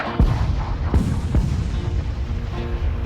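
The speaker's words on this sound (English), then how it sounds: "They turn the guns toward the enemy, emplace new ones, and open fire." Civil War cannons open fire as a battery shells its target: several deep, booming blasts at irregular intervals under a heavy rumbling background, with no voices.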